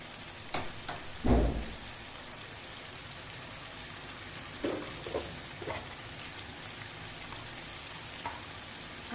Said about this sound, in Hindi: अब हम थोड़ी सी आंच कर देंगे चूल्हे की तेज़ और खूब अच्छा सा इसको भुनने देंगे